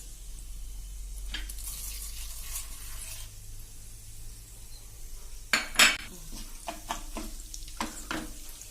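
Urad dal goes into crackling mustard seeds and cumin for an onion chutney. Quiet sizzling comes with metal spoon clinks, then a burst of louder spitting and clattering as the dal lands, followed by scattered pops and scrapes.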